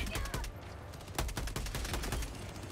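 Video game gunfire rattles off in rapid, dense bursts of sharp shots that run almost continuously, with a faint hint of background voice underneath.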